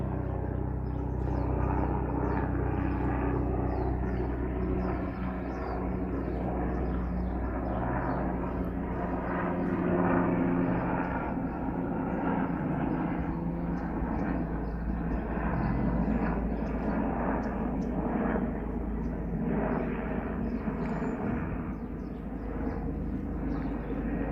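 A news helicopter approaches overhead during a police pursuit of a U-Haul truck in Seal Beach, heard as a loud, steady low rumble of rotor and engine that persists without a break.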